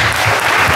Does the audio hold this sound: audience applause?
yes